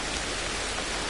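Rain in the game Ancestors: The Humankind Odyssey, a steady, dense wash of falling water like broadband hiss that stays even and continuous through a short stretch with no voices.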